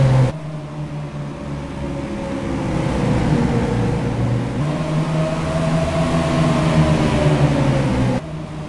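Race car engines drone steadily in a sim racing game at Bristol Motor Speedway, a loud sustained engine note with a pitch shift midway and a drop near the end, with no speech over it.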